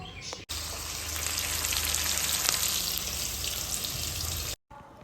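Curry leaves from a home plant crackle and sizzle loudly in hot oil for a kitchen tempering, a dense steady fry that starts abruptly and cuts off near the end, with no speech.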